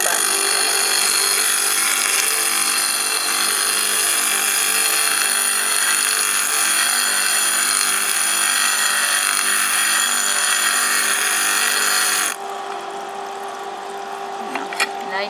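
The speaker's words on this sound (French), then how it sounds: "vous avez vu le principe de fonctionnement de la meuleuse" A small grinder used for trimming mosaic tile for a yin-yang mosaic tray runs as a steady, high, bright whir, loud and continuous. It stops abruptly near the end, leaving a faint low hum.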